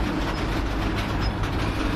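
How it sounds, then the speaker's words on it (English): Train rolling past on rail at a station, a steady close rumble with a faint clickety-clack of wagons over the track and occasional brief high squeals, continuous and loud, no talk. "This train, I believe, is heading off to Westbury later."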